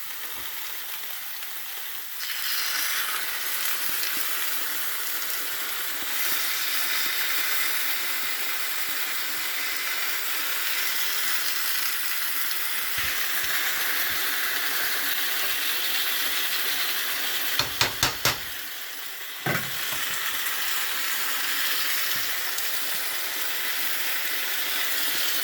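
Potatoes sizzle and fry steadily in a hot pan for the whole stretch, with a brief cluster of sharp clicks from the utensil or pan partway through as they are stirred around.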